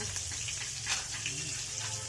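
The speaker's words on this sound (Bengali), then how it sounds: "পটলটা ভাজা হবে" Pointed gourd (potol) frying in a pan gives a steady, soft sizzle with faint crackles, running evenly and fairly quiet throughout.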